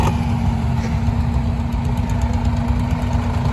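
Vintage tractor engines idle and chug steadily at a machinery rally parade, with a David Brown and other old tractors close by; a loud, continuous low knocking rumble with no talk over it.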